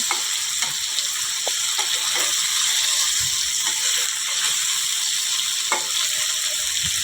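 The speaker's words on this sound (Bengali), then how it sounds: "তারপর আমি মুখিগুলোকে একটু হালকা লাল করে ভেজে নেব" Taro (mukhi) pieces seasoned with salt and turmeric sizzle steadily in hot oil, a dense continuous frying hiss with occasional soft clicks of stirring, close and even throughout with no voices.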